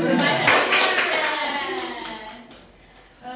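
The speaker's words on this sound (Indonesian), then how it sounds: "Tepuk tangan dong" Group clapping in a classroom-style gathering of teachers, a burst of hand claps that fades with talk and a voice underneath, then a final tap near the end.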